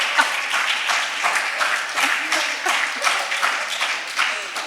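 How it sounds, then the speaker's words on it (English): A conference audience claps at the end of a talk, a moderately distant, steady patter of many hands with faint individual claps standing out, no speech over it. "Yes, you can clap."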